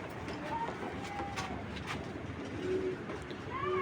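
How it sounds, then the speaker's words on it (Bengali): Pigeons in a pigeon-keeper's loft coo in soft, repeated rolling calls over a steady background murmur, with several birds sounding at once at close range. "আচ্ছা আমি ছেড়ে দেখাই কবুতরগুলা"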